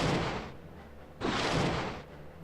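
Two heavy booming missile launches in the space strategy game Dominus Galaxia, each a loud broad roar that fades over about a second, with no talking.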